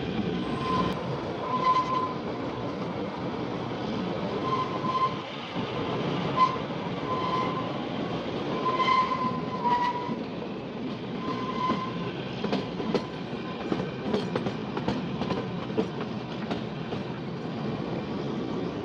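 Kalka–Shimla narrow-gauge toy train running through the hills in winter, with a steady rumbling clatter of wheels on rails and faint squeals carrying on without a break, close and loud, with no talking.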